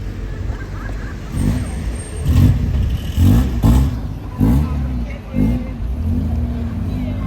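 A car with a double exhaust revs nearby, its low engine rumble rising and falling in several surges over a steady background drone, loud and close.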